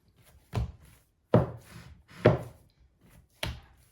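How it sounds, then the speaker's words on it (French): A knife chops rested tortilla dough into pieces on a board, four distinct, firm thuds spaced about a second apart with short scraping tails, close and clear, no voices. "Et on va le découper en 16 petits morceaux."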